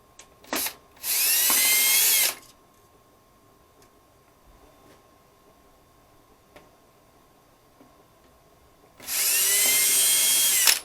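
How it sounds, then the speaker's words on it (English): Two loud bursts of a power drill backing screws out of a 40-inch Samsung TV, the first about two seconds long and the second near the end, with a quiet stretch between them. "Let's take out a few of these screws"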